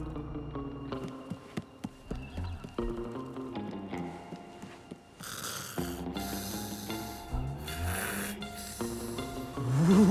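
A cartoon character snores in a repeating rhythm of loud, nasal breaths over a busy animated soundtrack with music and effects.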